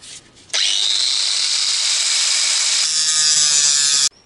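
A grinder cuts away spot welds on the steel chassis of a Citroën Traction 11 B, one loud, continuous, harsh grinding run of about three and a half seconds that starts and stops abruptly.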